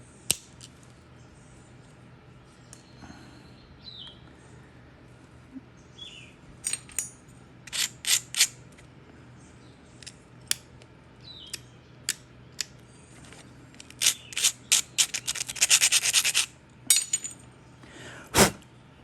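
Flint bird point being ground and worked, with scattered sharp clicks and scraping ticks, sparse at first and then a denser rasping cluster near the end, close and fairly quiet against a low room hum.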